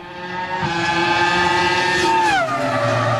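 A Formula One race car screams past at high speed, its high-revving engine whine building loud and close, then the pitch drops sharply as it goes by and moves away.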